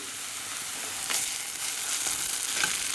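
Tomato paste and pepper paste sautéing in a pan, a steady close sizzle with occasional soft scrapes of a spoon, no talking.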